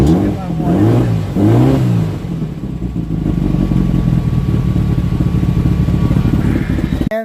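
Engine of a Baja race car running at a steady idle around 850–900 RPM just after an idle screw adjustment, loud and close, with a few throttle blips early on.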